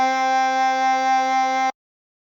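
A chromatic harmonica sounds a blown note on hole 1, sustained for about a second and a half with a gentle pulsing wobble before stopping cleanly into silence.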